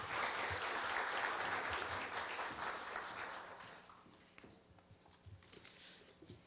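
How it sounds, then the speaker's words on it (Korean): Applause from the audience at a Korea University campus-town startup fair, as a National Assembly member is introduced. Dense clapping fills the room at first, then thins into scattered claps and fades. "큰 박수 부탁드립니다."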